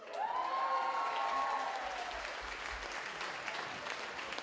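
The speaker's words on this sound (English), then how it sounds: "Give the lovely Anne McNamee a round of applause" An audience at a St Eugene's High School music show claps, the applause fairly quiet and somewhat distant, building briefly and then tapering off.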